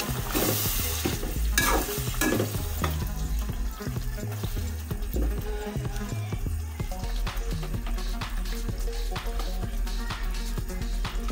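Mutton with spices and yogurt frying in a pan while being stirred: loud close sizzling under repeated scraping and clattering stir strokes, continuous throughout with no talking.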